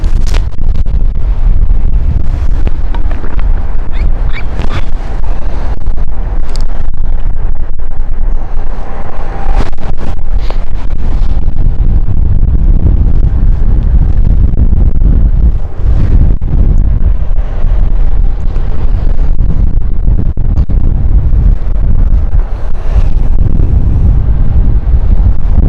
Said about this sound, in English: it's just the wind is really fierce